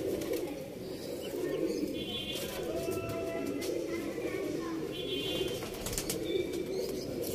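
A flock of pigeons coos continuously inside a loft, a dense low warbling chorus with a few faint chirps and wing flutters on top.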